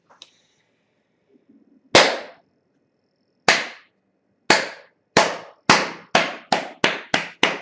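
Hand claps ring out alone after a brief quiet, starting slow and widely spaced, then speeding into a quick, steady run of sharp, close, loud claps.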